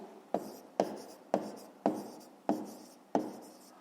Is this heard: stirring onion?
no